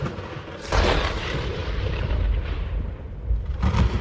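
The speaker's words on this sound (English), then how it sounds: "a bolt of lightning struck the tower" A lightning bolt strikes a stone tower on a mountain summit in a thunderstorm, giving a sudden loud crack that swells into a sustained roaring rumble, with another sharp burst just at the end.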